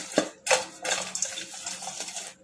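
Fried capsicum bhajiya tossed with red chili powder and chaat masala, a spoon clanking and scraping against a metal bowl in several sharp close knocks followed by lighter rustling stirs, no talking.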